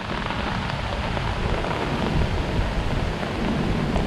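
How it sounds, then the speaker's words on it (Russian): Rain starts pouring over a riverbank along the Dniester, a dense, steady hiss of drops hitting leaves and ground, heard alone and close with no voices. "Начался дождь."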